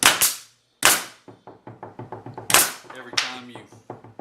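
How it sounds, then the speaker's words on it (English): A Hitachi 16 gauge brad nailer fires in multi-fire (bump) mode into 3/4 plywood over a 2x board, giving loud sharp pneumatic shots with air bursts and a rapid string of close repeated clacks. "every time you depress the nose piece, it's going to fire"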